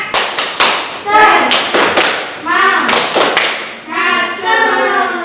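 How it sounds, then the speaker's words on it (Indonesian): Primary school pupils in a classroom perform a rhythmic spirit clap, tepuk semangat: sharp, loud bursts of group clapping in a patterned beat, with children's voices chanting along between the claps. "Nah, tepuk semangat."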